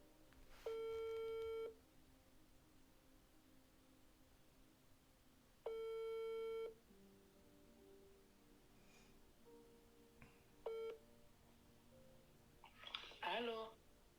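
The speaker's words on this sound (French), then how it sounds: "Une personne qui essaie de m'appeler." Phone ringing with an incoming call: three clear electronic rings spaced several seconds apart, with a shorter chirp at the end, heard faintly against a quiet room, with a voice briefly speaking afterwards.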